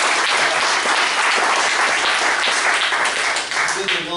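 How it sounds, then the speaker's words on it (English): Loud, dense applause from a crowd at a Loudon County GOP gathering honoring law enforcement officers, sustained and enveloping, with a slight dip near the end. "Can we give our law enforcement a round of applause?"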